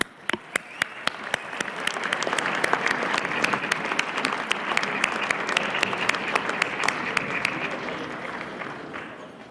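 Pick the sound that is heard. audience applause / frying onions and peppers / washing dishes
audience applause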